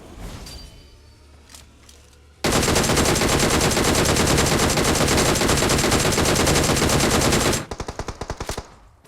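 Machine gun fire in a video game erupts after a quiet start as one long, loud, continuous burst lasting about five seconds, then ends in a few separate trailing shots.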